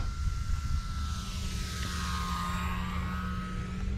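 E-Flite Timber X RC airplane flying overhead, its electric motor a steady buzzing whine with a faint pitch shift as it passes, holding a constant loudness without talk.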